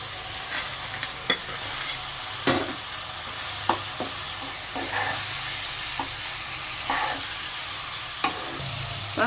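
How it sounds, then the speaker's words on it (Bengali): Ginger, green chili and garlic paste fries with two sliced medium tomatoes in a pan for a chicken dish, a steady close sizzle broken by occasional stirring scrapes, no talking. "আদা লঙ্কা রসুনের পেস্টটা হালকা ফ্রাই করে এর মধ্যে দিয়ে দেব 2টি মিডিয়াম সাইজের টমেটো স্লাইস করা।"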